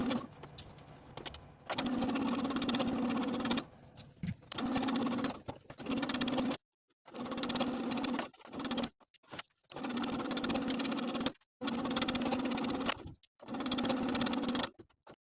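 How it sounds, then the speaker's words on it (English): A sewing machine fitted with a blind hem foot stitches the hem of a peplum skirt in short whirring bursts of a few seconds each, separated by quiet pauses, close and clear. "Now using my blind hem foot, I'm going to sew this hem in place."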